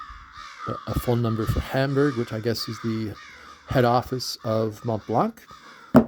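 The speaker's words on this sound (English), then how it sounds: "you can hear the crows talking outside my window" Crows cawing outside a window, repeated harsh calls heard faintly behind someone talking close up.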